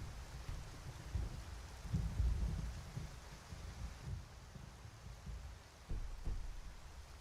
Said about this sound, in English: Ooh, okay, I love this rain.